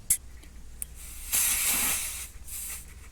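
A short burst of air hisses steadily from a tire valve for about a second after a couple of faint clicks, fairly quiet and close, during a tire pressure sensor install.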